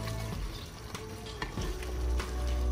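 Masala fries for a Punjabi-style aloo matar curry, a low steady sizzle with a few soft stirring scrapes against the pan, fairly quiet and free of speech.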